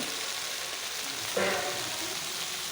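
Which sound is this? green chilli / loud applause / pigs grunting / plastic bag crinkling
green chilli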